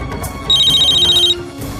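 A phone rings with a single short burst of bright, rapidly pulsing electronic trill, loud and close, with quiet room tone on either side.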